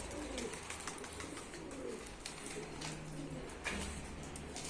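Taklacı Mardin tumbler pigeons coo repeatedly inside a crowded loft, soft low rolling calls overlapping at moderate distance amid faint rustling.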